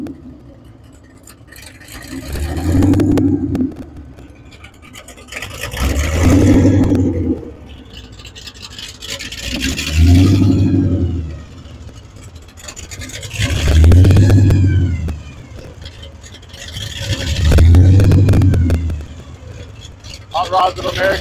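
Hot rod engines, including a 392 Hemi, an early Chevy and a Hellcat, rev loudly in five deep surging bursts, each rising and falling about every four seconds.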